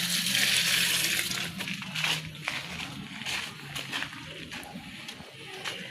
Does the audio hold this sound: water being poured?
yes